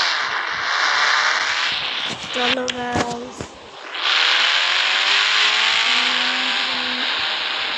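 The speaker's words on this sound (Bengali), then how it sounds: "দেখতে পাচ্ছেন গাড়িটা নিয়ে বেরোচ্ছি আমি" A car in the Indian Bike Driving 3D video game pulls away on a rainy street with a loud, continuous engine drone that rises in pitch. A person talks briefly partway through.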